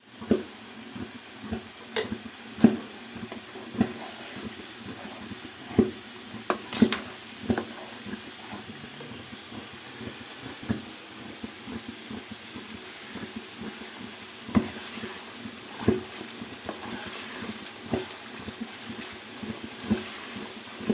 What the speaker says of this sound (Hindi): जल्दी मसाला जो है वो जल्दी से मैं भूनने लगी हूँ